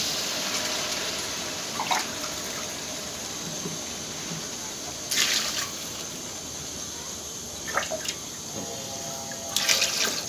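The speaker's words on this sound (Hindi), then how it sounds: "अब हम इसमें डालेंगे 7 गिलास पानी के" Seven glasses of water poured into a pot of fried potatoes and peas for aloo matar rice, a steady liquid wash with a few brief splashy bursts, fairly quiet, with someone talking now and then.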